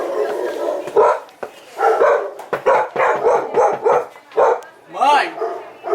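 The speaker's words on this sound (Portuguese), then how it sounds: "Tem cachorro, mas ele tá preso, tá?" A dog that is shut in or tied up barks in short bursts at a house, mixed in among people talking close by.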